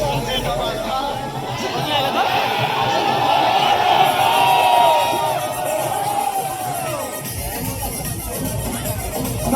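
Large cheering crowd at the Jaipur Marathon parade start, a steady loud wash of chatter, whoops and shouts with a raised voice carrying over it.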